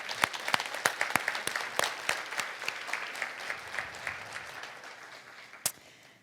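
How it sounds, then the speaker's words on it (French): Audience applause at a conference on Indigenous women's rights: a room of people clapping in scattered sharp bursts that thin out and fade over several seconds, with one last loud clap near the end. "Je pense qu'on pourrait se mériter une petite main d'applaudissement ici."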